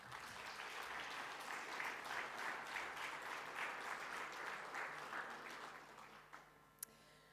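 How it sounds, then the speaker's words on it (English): Audience clapping at a media conference in Skopje, a dense steady round of applause lasting several seconds before thinning out toward the end, with one sharp clap near the close. "So let's give them a big round of applause."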